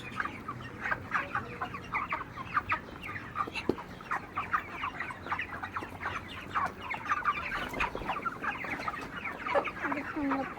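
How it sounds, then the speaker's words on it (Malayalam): Chickens on a farm clucking continuously, a flock of many birds close by with overlapping bursts of cackles and short calls and no speech. "ഇത് വെറ്റുള്ളത് കോഴിക്കളാണ്."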